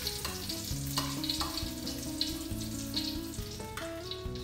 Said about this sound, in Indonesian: kita goreng jamur, buncis, dan juga wortel.